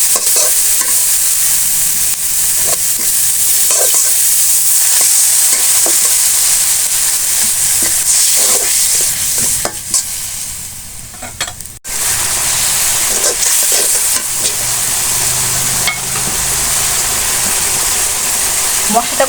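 Spice paste of turmeric, chili powder, salt and tomato fries loudly in a pan, with a continuous close sizzle and frequent scraping stirs running throughout.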